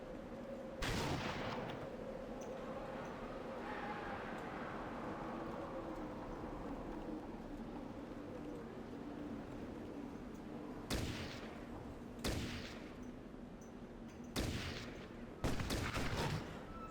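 Bursts of gunfire crack out in the video game Fallout Tactics over a steady low engine-like hum, with scattered shots late in the clip, several close together near the end.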